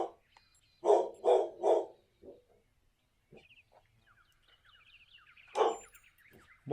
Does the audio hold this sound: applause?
no